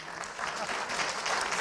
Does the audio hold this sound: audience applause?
yes